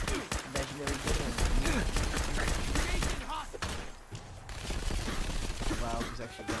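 A minigun firing in the game Fallout 4, a steady dense stream of rapid shots with thumps and mechanical clatter, loud throughout, while someone talks over it.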